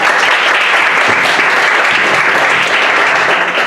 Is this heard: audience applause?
yes